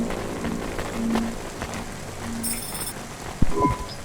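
Steady rain patters across a city street in the cyberpunk video game Cloudpunk, a continuous hiss with faint electronic tones and a brief heavier thump near the end.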